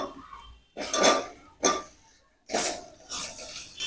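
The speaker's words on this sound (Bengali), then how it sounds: "এবার ভেজে রাখা আলু দিয়ে দেব।" Potatoes tipped into a pan of cooked-down spices for a potato, capsicum and paneer curry, with a few distinct bursts of metal utensils clinking and scraping against the pan, separated by brief quiet gaps.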